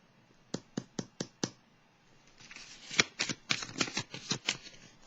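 Tarot cards shuffled by hand, starting with five sharp separate riffs and then moving into a quicker, denser run of snaps and flicks. The sound is close, quiet and clear, with no voice over it.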